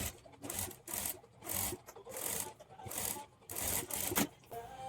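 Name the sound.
sewing machine stitching a blouse hem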